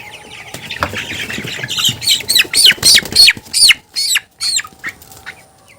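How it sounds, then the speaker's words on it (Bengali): A red rooster squawks and clucks in a run of loud, close, broken bursts while being caught on a poultry farm, with a scuffle of rustling beneath. "লাল কালারের একটা মোরগ ধরে নিই প্রথমে"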